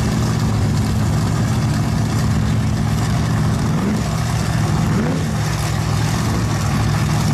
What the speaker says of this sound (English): Dad's Restorations driving the 53 Chevy. I'm going to get them both up to the line here. They're warming up their tires.